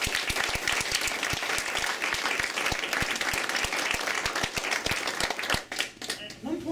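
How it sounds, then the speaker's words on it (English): Audience at a city resource hub opening in Jamaica applauds, a dense steady clapping that rises and holds for several seconds before thinning out near the end, with brief voices underneath. "So I want to give a good round of applause to them."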